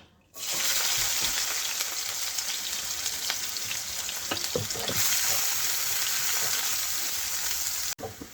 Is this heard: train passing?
no